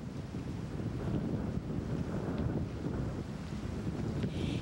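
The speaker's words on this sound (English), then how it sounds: "Even on a blustery winter day" Blustery winter wind rushes and buffets steadily outdoors near a church graveyard, a continuous low rumbling roar with gusty swells and no voices.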